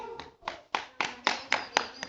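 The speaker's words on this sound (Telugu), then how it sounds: "Very good claps." A small audience claps for a 2.5-year-old boy: about eight sharp, close hand claps in a steady rhythm, roughly four per second, growing slightly louder toward the end.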